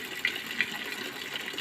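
Water running steadily from a tap as hands are washed, a close continuous gush with a couple of brief splashy spikes.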